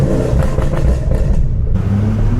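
A supercharged LSA V8 swapped into a Maserati Ghibli at a Miami car meet, loud and close, a deep engine rumble with quick rising revs through the first second and a half, then settling to a steady throaty idle.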